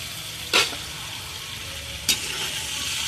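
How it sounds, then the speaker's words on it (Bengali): Drumstick (sajne data) pieces go into a pan of spice masala for a poppy-seed curry, giving a steady low sizzle with two sharp clattering bursts as they drop in; no voices. "আমি এখন এই ডাঁটাটা দিয়ে দেবো।"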